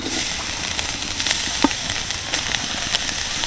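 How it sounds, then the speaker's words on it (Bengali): Grated coconut sizzles in a hot wok for patisapta filling, a continuous loud crackling fry with sharp pops scattered across it. "সম্পূর্ণ নারকেল কড়াটা আমি কড়াইয়ের মধ্যে দিয়ে দিচ্ছি"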